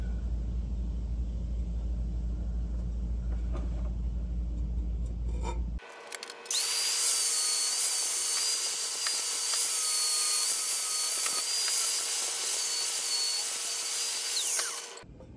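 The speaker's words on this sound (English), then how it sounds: "going to have to cut down a little bit of this pipe, get it cut at an angle." An exhaust pipe is cut at an angle for a manifold swap on a Chevrolet OBS Silverado. A low drone of about six seconds is followed by a steady, loud, high-pitched grinding whine that holds for roughly eight seconds, then stops.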